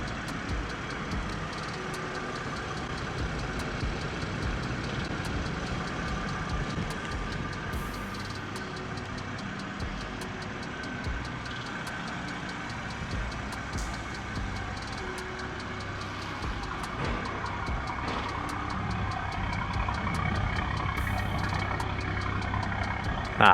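A BMW M340i sits idling, its engine giving a steady, low, rumbling drone that holds evenly throughout at moderate level, with no one talking.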